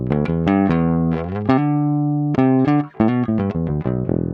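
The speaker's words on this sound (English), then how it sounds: "here is a track that I've squashed to death, this compressor track" A dense, flat-loudness stretch of music with punchy synth-like notes and a held tone, every part pushed to nearly the same level.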